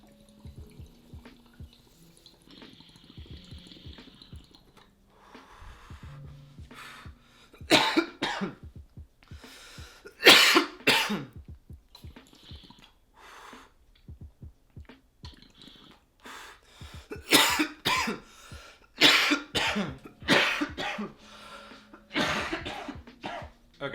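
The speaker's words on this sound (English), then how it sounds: "I definitely just had a fucking whole coughing fit over that" A person has a coughing fit after using a Yocan vaporizer, with repeated harsh, close coughs coming in bursts, some throat clearing, and quieter breathy pauses between the bouts.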